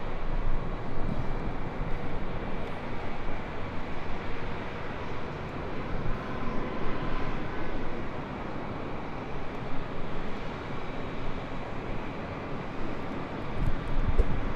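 An Air Tahiti Nui Boeing 787-9 Dreamliner arriving at LAX on the north side, a continuous wide jet rumble with wind buffeting the microphone, fairly loud and steady throughout, no voices.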